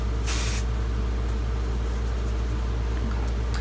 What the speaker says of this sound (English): you just kind of spray it and just kind of rub it in your roots